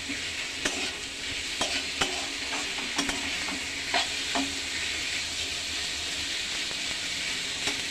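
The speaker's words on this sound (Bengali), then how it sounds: "চিংড়ি মাছটাকে একটু দিয়ে আমি নেড়ে নেড়ে নেড়ে এর মধ্যে একটু ভেজে নেব।" Shrimp fry in a hot pan with a constant near sizzle while a spatula scrapes and taps the metal in an uneven rhythm.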